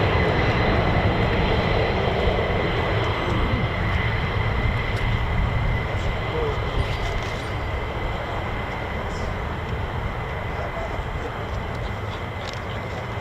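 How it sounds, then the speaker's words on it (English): A steady, broad jet-engine roar from F-35 fighter jets taxiing across a US Air Force runway at RAF Lakenheath, a continuous loud rumble and whine that eases slightly over time. "there's millions of F-35s crossing the runway"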